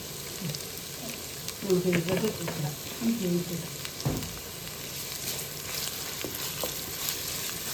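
Food frying in a pan being stirred in a home kitchen, with a continuous soft sizzle, scraping stirs and a few clinks, while brief muffled sounds and a clatter break in partway through.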